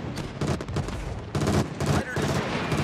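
Bombs dropped from aircraft exploding on an isolated destroyer in the naval combat game World of Warships, a dense barrage of booming blasts in quick succession, loud and continuous throughout.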